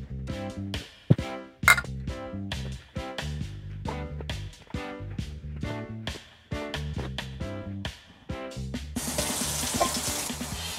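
Cold water pours from a tap or jug into a bowl of red teff flour for Ethiopian injera dough, first in short interrupted splashes and then as a steadier, louder stream near the end.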